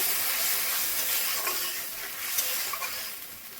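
Ground spices fry in a pan with oil, a soft steady sizzle and hiss with occasional light crackles and stirring scrapes, close and continuous.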